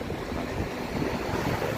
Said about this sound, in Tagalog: So hindi lang malamig, malakas pa yung hangin.